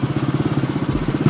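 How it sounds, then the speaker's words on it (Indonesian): A motorcycle fitted with a K'Race standard racing exhaust idles close by, with a loud, steady, fast thumping pulse and a slight rise at the end, and nobody talking over it. "Jadi knalpotnya udah nyala"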